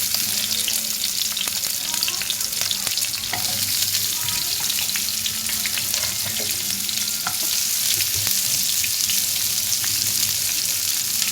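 Onions sizzle in a pan with whole garam masala spices such as green and black cardamom and black peppercorns, giving a dense, steady hiss with occasional stirring scrapes, close and loud, with no talking.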